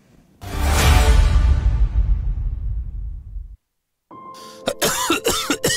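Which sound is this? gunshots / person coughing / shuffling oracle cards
person coughing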